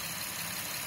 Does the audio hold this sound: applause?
no